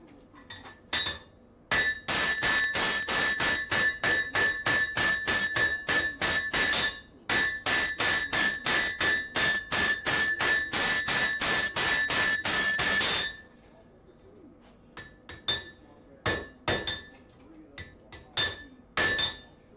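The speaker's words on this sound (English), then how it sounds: "we're going to go back to our other hammer and keep going and flattening this down" A metal spatula blank is hammered flat on a hard surface: rapid, steady ringing blows in two long dense bursts, then sparser, separated strikes near the end. The blows are close and loud, with no talking.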